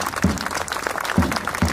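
Thin, scattered applause from a fundraising program audience, distant and fairly quiet, with a few sharper claps punctuating a low, continuous patter.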